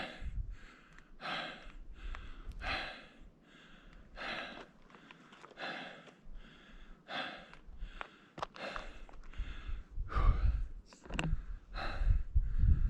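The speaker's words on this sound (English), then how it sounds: "I hate to be breathing so hard" A hiker breathes hard and heavily after reaching the 6,400-foot Miller Peak summit. The breaths come as loud, close gasps and sighs in an uneven rhythm, and the clip holds no talk.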